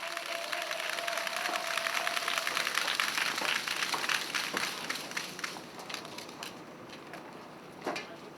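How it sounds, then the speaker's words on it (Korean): Sustained applause and cheering from a crowd at an outdoor labor union rally in Chungbuk, welcoming a GM parts logistics union official to the stage, steady and dense before thinning toward the end. "박수로 맞이해 주시기 바랍니다"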